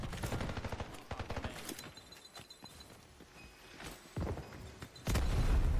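Gunfire in the shooter game Delta Force, with an M4A1 rifle: rapid bursts of automatic shots crackle loudly, break into scattered single reports and thuds, then resume as a dense, heavy volley at the end.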